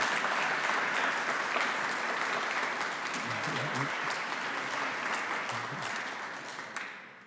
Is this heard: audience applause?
yes